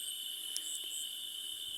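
Night insects such as crickets chirr after rain: a steady, high-pitched drone that holds without a break, fairly faint, with no voices over it.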